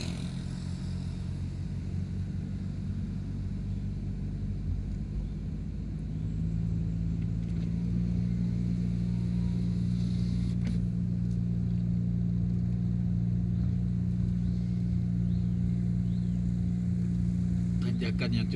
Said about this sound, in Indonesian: mobil kita kewalahan untuk menanjak